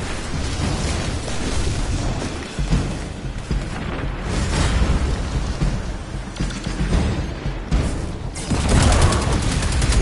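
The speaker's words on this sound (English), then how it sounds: "nice, very nicely placed grenade" Grenade blasts in the video game Destiny 2 Shadowkeep: loud booming explosions and a rattling burst of gunfire in a dense, continuous battle mix.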